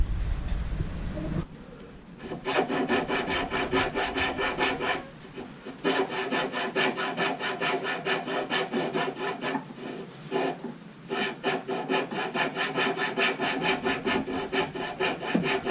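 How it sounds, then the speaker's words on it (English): A fret saw cuts away the pointed end of a carved wooden Pembroke Welsh Corgi's tail, producing rapid rhythmic rasping strokes, close and steady, with two brief pauses between bursts. "Here we are on the last section of the tail. I'm fretting the point of the tail away."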